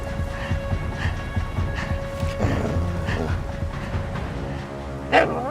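Dog whimpering and yelping in sharp bursts at close range, with a steady electronic hum running underneath and a louder yelp near the end.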